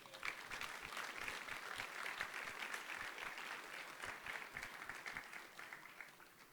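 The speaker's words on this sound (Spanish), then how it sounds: "Dale un aplauso al Señor." A church congregation applauds in praise, steady sustained clapping from a room full of people that stays even in level throughout and eases slightly at the end, with no voices heard over it.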